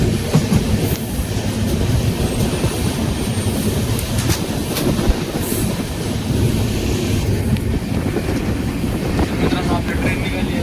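The Nanded-Panvel express train runs along the line toward Latur, a loud continuous rumble with rhythmic wheel clacking and faint squeals, heard from inside the moving carriage with some crowd murmur in the background.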